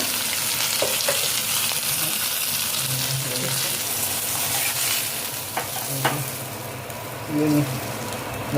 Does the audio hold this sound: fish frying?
yes